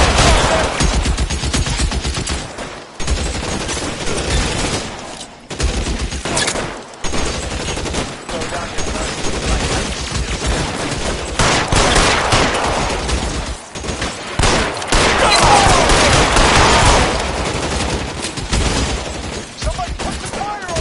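Gunfight in L.A. Noire with loud, rapid bursts of gunfire and machine-gun volleys, nearly continuous with short pauses, voices shouting amid the shots.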